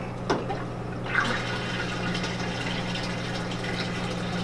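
A water chiller for cooling epoxy in a black walnut river-pour table runs with a steady mechanical hum, joined by gurgling water and a couple of brief knocks near the start.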